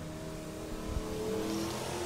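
Street stock race cars at a speedway drone with engine hum from a distance, a steady rumbling roar with a brief low thump, continuing without talk.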